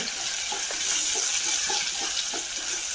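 Green chillies, garlic and ginger frying in reused oil in a pan, a continuous bright hiss and sizzle with faint scattered crackles, close and steady.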